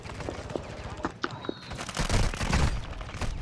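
Rapid gunfire in a PlayStation game: bursts of sharp cracks, sparse at first and then building into a dense, louder barrage, with players talking over it.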